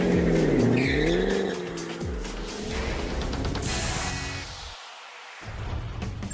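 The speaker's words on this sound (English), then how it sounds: "the 662 horsepower Shelby GT500 Mustang" A 662-horsepower 2013 Ford Shelby GT500 Mustang accelerates hard, its engine rising and falling through gear changes while the tires squeal, loud and close, with a short drop in sound before the engine returns.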